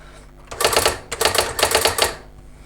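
Typing on a Brother AX-15 electronic typewriter: three close, loud bursts of rapid mechanical key strikes and print hammer clacks, separated by short pauses, with no talking.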